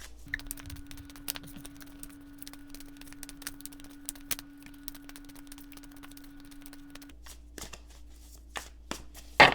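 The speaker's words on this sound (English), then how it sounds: "let's shuffle a few more times here with intention" Quiet soft rapid patter of tarot cards being shuffled, repeated riffling bursts under a faint steady hum, with no talking.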